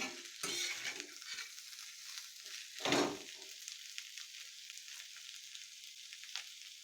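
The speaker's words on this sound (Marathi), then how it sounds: "मीठ घातलं की असं हलवून घ्यायचं मिक्स करून" Salted yellow potatoes are stirred in a pan: a soft frying sizzle underneath, broken by a couple of louder scraping stirs of the spoon against the pan.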